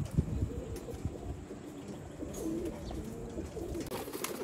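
Pigeons of a fancier's flock in Sialkot give soft, continuous low cooing beneath a quiet background hum, with a few faint clicks and rustles.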